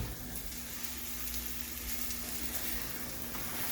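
A cheeseburger patty sizzles steadily in a hot pan, a constant close crackle and hiss with no talking.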